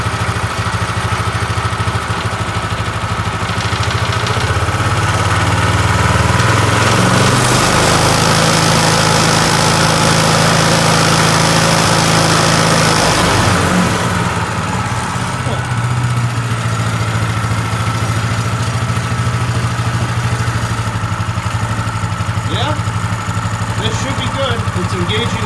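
A Predator 212 engine in a golf cart with a Comet clutch runs steadily, then revs up for several seconds and drops back to a loud, close idle, continuous throughout.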